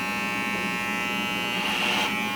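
Electric hair clippers cutting hair in a cosmetology fade, a steady close buzz that swells slightly toward the end.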